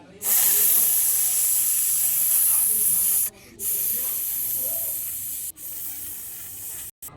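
Vermicelli (seviyan) sizzling in very hot oil in a bowl, a loud steady hiss that cuts out briefly a few times, with no talking over it.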